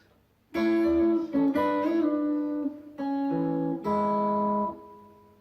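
Harmonized guitar lead in two-note intervals, several ringing phrases with bends and slides, sustained notes separated by brief gaps, played alone.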